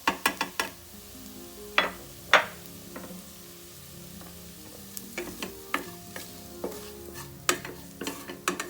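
Onion, curry leaves and masala spices roast in a pan for a dry peas masala, with a soft sizzle under repeated sharp scrapes and clinks of a spoon as the mix is tossed and stirred.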